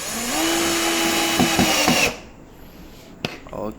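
A power drill drives screws into a multi-layer shoe rack during assembly, a loud steady whir for about two seconds with brief surges, then stopping, followed by quieter handling clicks and knocks.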